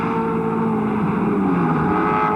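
A race car engine drones loudly and steadily at the 1986 Bathurst 1000 touring car race on Mount Panorama, a sustained throaty roar with a slight pitch shift midway and no break.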